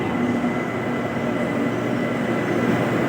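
BTS Skytrain pulling into Bang Chak station, a loud, steady rumble of the train close by with a continuous low mechanical drone and faint wheel hiss throughout.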